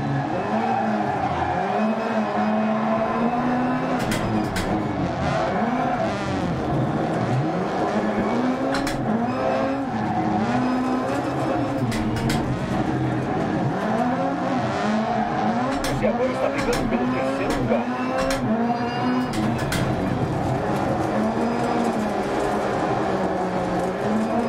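Race cars in a video game race over six laps, with loud, continuous engine whine that rises and falls through gear changes, plus tire squeal and skidding, and a person talking over it throughout.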